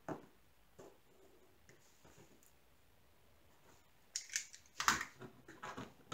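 Scissors snipping out diamond painting pieces stuck on masking tape: a few faint isolated cuts early, then a denser run of sharper, louder snips and crinkles toward the end.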